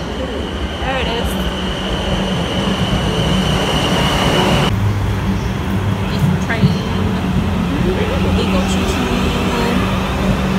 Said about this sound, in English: It's just a normal train.